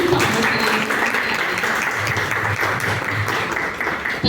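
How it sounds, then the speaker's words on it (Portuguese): Audience applause at a community dialogue event in São João Batista, Maranhão: a dense, sustained crowd clapping heard close and fairly loud, with faint murmuring underneath. "Salve de palmas"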